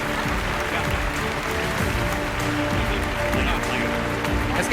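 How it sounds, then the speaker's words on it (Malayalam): An audience claps at a Rebuild Wayanad relief event as people are honoured on stage: a steady, dense wash of applause that lasts throughout, with voices and background sound mixed underneath. "രണ്ടുപേരും ഒരു ക്ലാപ്പ് കൊടുക്കൂ"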